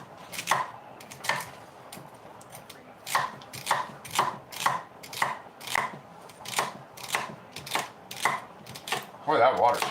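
A knife dices celery on a cutting board for a 1970s-style summer pasta salad, giving a steady run of about fifteen close, crisp chops at a regular rhythm while a person talks quietly in the background.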